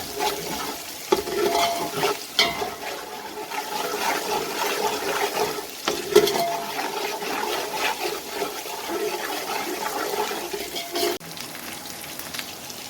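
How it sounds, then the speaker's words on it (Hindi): Whole garam masala spices are stirred in hot oil in a pan, giving a continuous crackling sizzle with scraping spoon strokes throughout, close and fairly loud, with no talking. "साबुत गरम मसाला डाल के 1-2 मिनट इसे चलाएंगे ताकि इसमें से अच्छी सी खुशबू आने लगे"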